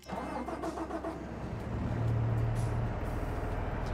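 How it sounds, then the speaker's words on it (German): A vehicle engine in Landwirtschafts-Simulator 22 (Farming Simulator 22) cranks and starts, settling into a steady low hum under a busy background of music and noise. "Dann hört ihr, läuft jetzt der Motor"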